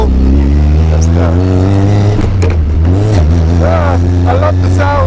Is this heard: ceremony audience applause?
no